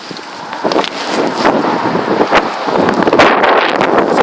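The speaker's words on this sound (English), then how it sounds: "These are very strong gusty winds." Very strong, cold gale winds roar in loud, continuous broadband gusts that surge and ease without letup, buffeting the microphone up close with rushing, rumbling turbulence and no voices.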